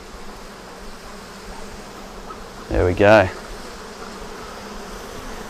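Bees buzzing around an open hive of a balcony beehive as frames are worked, a steady faint insect hum throughout with a brief louder burst midway as a person speaks.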